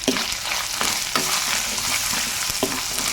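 Turmeric and asafoetida powder dropped into hot oil in a pan with ginger, a steady close sizzle and fry broken by several sharp scraping stirs, with no talk.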